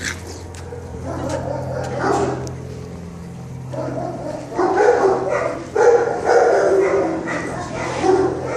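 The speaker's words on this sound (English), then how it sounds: "And the white dog is Sammy" At an animal shelter, dogs bark and yip in uneven bursts that grow busier toward the end, with people's voices mixed in underneath.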